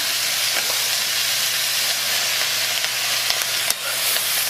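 Kale frying in a hot pan while being stirred, a loud continuous hiss and sizzle with a few scraping stir sounds near the end, no talking.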